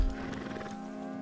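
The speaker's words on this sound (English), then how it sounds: "Got 2 horses with me." A horse in the video game Red Dead Redemption 2 gives a short, close neigh lasting about a second, with no talking over it.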